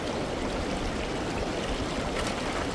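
Creek water rushing steadily through a gold sluice at Mill Creek in the Highlands of California, a close, loud and continuous wash with no voices.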